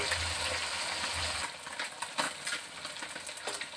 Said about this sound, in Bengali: মাছগুলোকে ভেজে নিয়ে একটু তুলতে দিলাম